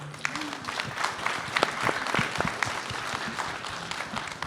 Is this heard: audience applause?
yes